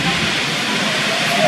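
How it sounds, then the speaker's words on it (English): A metro train in a Paris-area underground station produces a steady, loud broadband rush and hiss of rolling cars, continuous throughout the short stretch, with no clear voices over it. "We are now here at the metro station."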